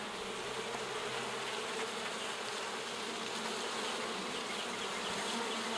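Honey bees swarming around an opened beehive split full of drones and nectar, a dense continuous buzz that stays loud and steady throughout with no voices.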